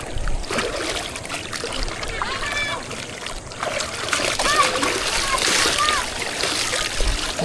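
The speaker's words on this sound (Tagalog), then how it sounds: "Hugasan ko lang tong okra dito sa running water." Okra is rinsed under running water outdoors where many people are bathing on a holiday. Continuous splashing and trickling runs throughout, with children's voices and other talk mixed in.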